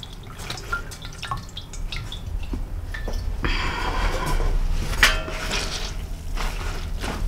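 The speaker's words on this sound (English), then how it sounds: "So I'm going to wring that out." Water drips and splashes from a piece of naturally dyed fabric being wrung out by hand, a close run of irregular patters and trickles with some breathing nearby.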